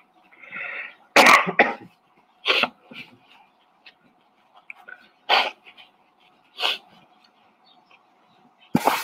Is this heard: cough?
yes